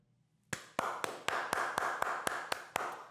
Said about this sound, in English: Mandela says double clap